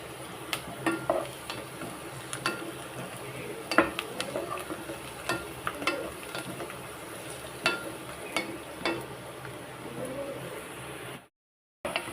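Onions fry in a pan for a cashew curry, a steady sizzle broken by scattered sharp clicks and scrapes of a spoon stirring, with no talk, ending in a brief silence.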